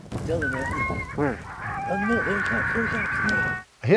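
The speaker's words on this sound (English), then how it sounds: "I hit the hot button on the raspy serenade" Electronic predator call playing a raspy serenade sound for coyotes, with harsh, wavering howl-like tones, and voices talking over it before a brief pause near the end.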